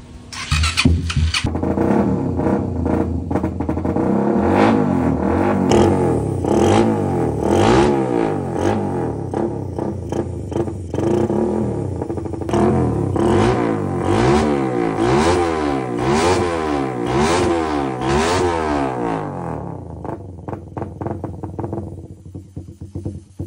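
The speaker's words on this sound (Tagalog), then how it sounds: "Sabayan ko na ng konting rev." Car engine fitted with a new throttle body on a stock ECU, idling and then revved repeatedly in rising and falling pulls, loud and close, before settling back and cutting out near the end.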